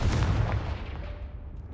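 Confringo spell explosion in the video game Hogwarts Legacy, a deep booming blast with a rumbling tail that fades over about a second.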